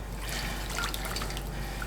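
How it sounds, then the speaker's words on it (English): A tea towel is washed by hand in a bowl of warm water with a little washing soda, giving a soft, steady trickling and sloshing close by, quiet, with no talking. "I have a bowl of warm water and I'm going to add just a little sprinkle of this washing soda"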